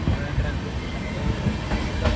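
An express train from Yesvantpur to Goa rumbles along steadily at close range, a continuous low roar with faint rail clatter and a few brief higher squeals.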